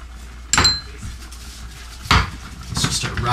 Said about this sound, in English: Give them a stir, get everything nice and mixed together